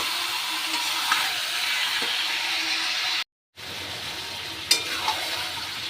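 Chicken meat sautéing in a pan sizzles softly and steadily up close, broken by a brief silent gap and a couple of faint stirring clicks.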